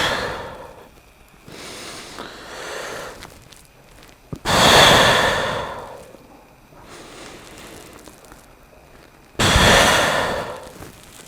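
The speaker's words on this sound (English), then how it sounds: "and I start to belly breathe again" Slow belly breaths taken in a hanging squat position, two heavy, close exhales standing out about five seconds apart, with softer, quieter breathing in between.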